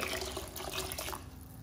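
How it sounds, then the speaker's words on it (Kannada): Water pours steadily into a pot of curry with ground coconut masala, a close, continuous gushing stream that fills the whole moment. "ಸಾರಿಗೆ ಎಷ್ಟು ನೀರು ಬೇಕೋ ಅಷ್ಟು ನೀರು ಕೂಡ ಹಾಕ್ತಾಯಿದ್ದೀನಿ."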